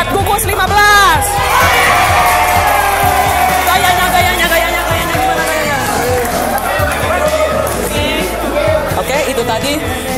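School students at a first-day orientation event at a vocational high school in Banjar cheer and shout loudly, with clapping buried in a dense crowd roar that holds steady throughout.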